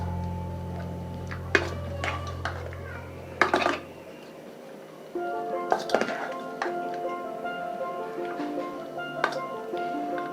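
A spoon mixing raw mango rava pulihora with asafoetida oil in a pan, making sporadic clinks and scraping knocks against the metal, with a low hum that stops partway.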